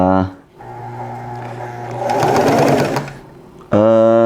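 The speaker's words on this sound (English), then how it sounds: "I was now finally ready to start sewing" A sewing machine stitching stretchy fabric hums with a steady motor whine that rises into a louder, rapid rattling burst, then falls away before starting up again, close and clear.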